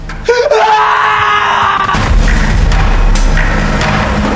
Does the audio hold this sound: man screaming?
yes